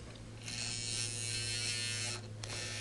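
Singer 237 sewing machine running steadily as it stitches through a thick fabric face mask tie, a continuous close motor whir with high buzzing hum that holds for about two seconds before stopping, followed by a brief restart.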